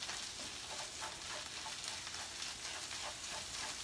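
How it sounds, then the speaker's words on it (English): Beyond Beef vegan ground meat seasoned with Himalayan salt and thyme fries in a pan, a faint, continuous crackling sizzle heard alone without talk. "I'm going to let my meat finish cooking up"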